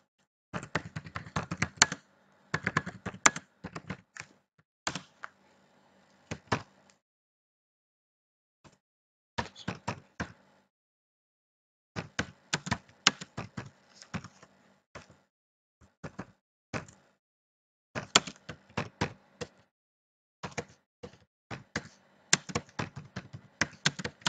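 Someone types on a computer keyboard in a computer lab. Bursts of quick, close key taps come in irregular clusters, separated by short silent pauses.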